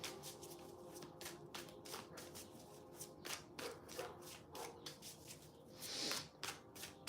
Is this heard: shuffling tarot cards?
yes